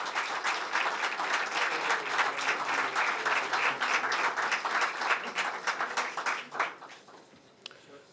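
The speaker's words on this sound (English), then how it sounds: "a warm across-the-border round of applause for Dr. Jakowski, George Jakowski." A large crowd applauds warmly, dense clapping sustained for several seconds before thinning out and fading near the end.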